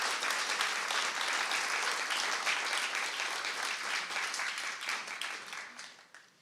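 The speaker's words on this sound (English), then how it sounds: "So a round of applause and our big thanks for everyone." A large convention audience applauds, steady dense clapping filling the hall before tapering off near the end.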